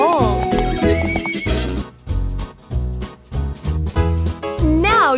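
A horse whinnies loudly at the start, then hooves clip-clop in a quick rhythmic series of bursts, followed by another neigh at the end, all close and clear.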